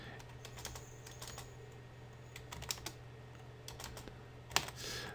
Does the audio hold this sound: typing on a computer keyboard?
yes